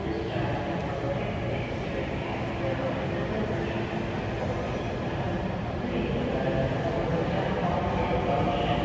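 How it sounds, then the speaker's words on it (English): A Disneyland tram rolls past with a steady, dense rumble and faint rattling over about nine seconds, crowd chatter mixed in beneath the continuous noise. "Okay, that's our tram."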